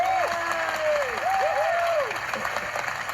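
Studio audience applause on an Australian music quiz TV show, a broad wash of clapping with a crowd murmur and some whooping or tonal voices sliding over it.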